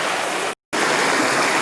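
Runoff water streams steadily down a hillside, a broad continuous rush heard close, cut by one brief gap of silence.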